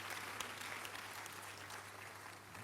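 A church congregation at a midweek communion service applauds steadily, a dense wash of many hands clapping at an even level throughout, with no speech over it.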